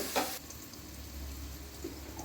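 Onion and coconut frying in a pan for a chicken gravy, a quiet steady sizzle with a brief scrape of stirring at the start.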